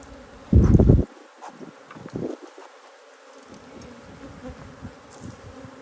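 Honeybees buzzing around an open hive at the end of an inspection, a loud close burst of buzzing early on, then a fainter hum with scattered bee passes.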